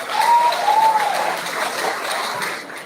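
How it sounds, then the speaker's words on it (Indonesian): A crowd at a political declaration event gives a broad wash of applause, steady and moderately loud, with a few voices rising over it before it tapers off. "Tepuk tangan dulu biar lebih bersemangat"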